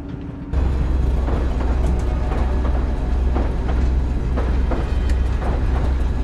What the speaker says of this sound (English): The metro is the fastest option.